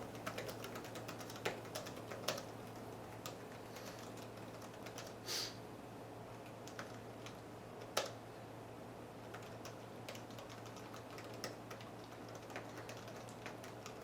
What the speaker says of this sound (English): the first thing I'm going to show is just all out banging on the keyboard typing